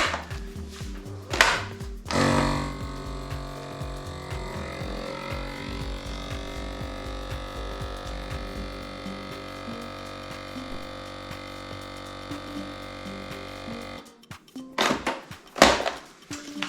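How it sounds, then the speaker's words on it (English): A vacuum sealing machine evacuates a bag of smoked salmon, a steady electric motor hum running for several seconds with faint clicks, bracketed by handling bumps and thuds at the start and end. "we pop that into the vac bag like so. Into our machine."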